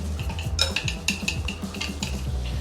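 Alkaline wheat noodles are tossed with eggs and soy sauce in a bowl, a steady close-up run of wet squelching and clinking utensil strokes that fills the short stretch without pause.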